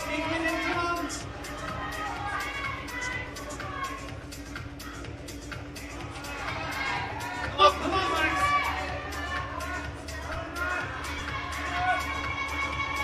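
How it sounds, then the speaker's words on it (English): Spectators at a British Boulder Championships semi-final at the Depot climbing centre cheer and chatter as a climber campuses a problem, a steady crowd roar with shouts rising, under a commentator talking. "Crowd loving this here at the depot."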